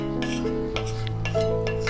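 Scraping out the inside for Jamaican banana dumplings in a home kitchen: four short, rough rasping strokes come at a steady pace, close and fairly clear, over a continuous tonal background hum or music.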